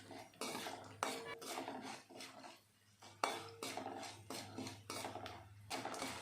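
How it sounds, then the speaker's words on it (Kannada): Cumin and mustard seeds are stirred in a pan for a heralikayi chitranna breakfast: a quiet run of rhythmic metal scraping strokes with brief pauses and only a soft frying hiss beneath. "ಜೀರಿಗೆ, ಸಾಸಿವೆ ಎಲ್ಲ ಹಾಕಿದ್ಮೇಲೆ ಈ ರೀತಿ ತಿರುಗಿಸ್ತಾ ಚೆನ್ನಾಗಿ ಫ್ರೈ ಮಾಡ್ಕೊಬೇಕಾಗುತ್ತೆ"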